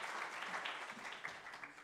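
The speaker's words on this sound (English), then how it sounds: "Can you give them a round of applause" Audience at an Africa investment summit applauds in a steady, fairly faint wash of clapping that continues without a break for the whole short stretch.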